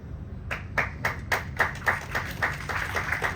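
Audience clapping in a hall, a steady run of sharp, evenly spaced hand claps at moderate distance, fairly soft overall and without talk.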